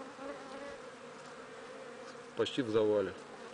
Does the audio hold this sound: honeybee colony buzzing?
yes